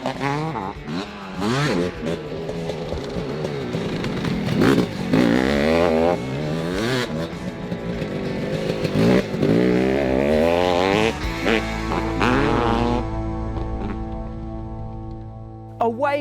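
Two-stroke motorcycle engine revving loudly with rising and falling pitch sweeps, continuous and close, while someone talks over it throughout.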